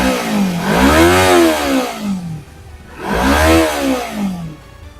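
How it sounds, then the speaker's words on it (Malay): A 2022 Modenas Kawasaki Z250 ABS naked motorcycle revs loud and close, its engine note rising and falling in two smooth throttle blips that climb high and then drop back to idle. "So jom kita dengar startup dia macam mana."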